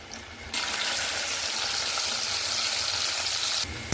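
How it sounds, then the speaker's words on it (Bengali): Sweet corn fries in hot oil, a steady broad bubbling sizzle that swells suddenly after a quieter start and drops back near the end, close and continuous with no speech. "কর্নগুলো ভাজা হয়ে গেছে"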